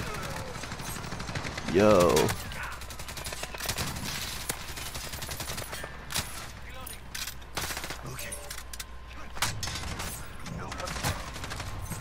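Bursts of gunfire from a gun in a Call of Duty multiplayer match crackle through the game's steady background, with one louder burst early on and a short spoken exclamation.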